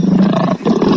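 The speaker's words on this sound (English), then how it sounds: "Lion." A lion roars loudly and continuously through the second, with a strong low growl that dips briefly midway before surging again.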